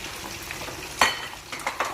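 Green chili and starfruit hitting a hot pan in an everyday Acehnese home kitchen, giving a soft, steady sizzle with a few sharp clatters of a utensil against the pan.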